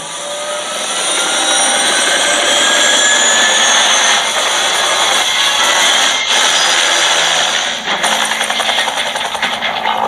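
Helicopter rotor blades played back through a smartphone speaker, a steady dense whirring roar with faint sweeping tones that holds evenly for about ten seconds, slightly uneven near the end.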